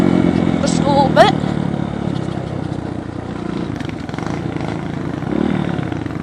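Dirt bike engine on a sandy trail, a moderately loud rough drone that swells with light throttle, with wind and brief vocal sounds over it.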